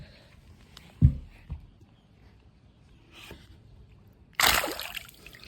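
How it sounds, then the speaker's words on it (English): A bluegill released back into the water makes a sharp splash, then a smaller splash. After a quiet stretch comes a louder, spraying burst of water. "He just sprayed water all over me."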